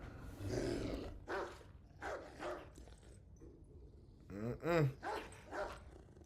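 A dog barks several times at an unseen object in a room, the barks fairly faint and spaced apart, some edging into growls, with a couple of louder yelps near the end.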